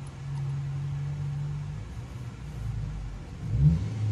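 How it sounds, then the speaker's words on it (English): A pickup truck with a newly fitted exhaust approaches at a distance, a low steady engine hum and rumble that swells slightly toward the end, fairly faint and without talk. "That sounds like Tony's truck."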